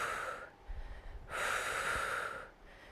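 Heavy breathing during a seated HIIT workout for seniors, exhaling through seated knee raises: two long, loud breathy exhales with a short snort-like intake between them, close to the microphone.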